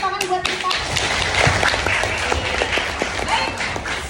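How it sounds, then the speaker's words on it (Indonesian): A lecture class in a classroom claps together, a dense burst of steady applause lasting a few seconds with scattered sharp individual claps, close and fairly loud. "Boleh tepuk tangan buat kita?"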